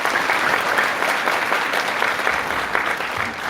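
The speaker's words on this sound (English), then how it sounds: "Round of applause for James." An audience gives a percussionist a round of applause at a choral concert, with loud, dense, continuous clapping throughout.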